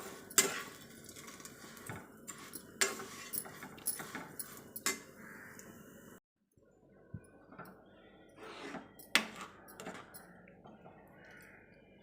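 Vermicelli roasting in ghee in a pan on low heat, stirred with a utensil: irregular scraping and clinking strokes close by, with a brief pause midway before the stirring resumes.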